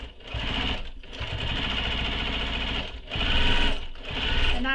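A sewing machine runs steady stitching bursts through backpack fabric, sewing over basting stitches in four loud, close runs separated by brief pauses, with no talking.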